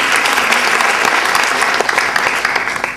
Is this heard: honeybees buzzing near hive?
no